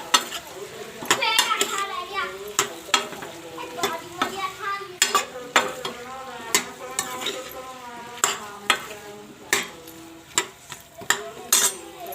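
Turmeric powder being stirred into pumpkin sabzi in a pan: repeated sharp spoon knocks and scrapes against the metal at an uneven rhythm, close and fairly loud, with a voice talking underneath.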